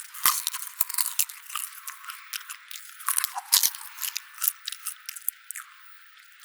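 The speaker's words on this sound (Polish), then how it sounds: "Więc chociaż relaksujcie się moim chrupaniem." Loud, close ASMR crunching of popcorn in a cinema, a fast irregular run of sharp crisp bites and chews that keeps going, with steady background hiss behind it.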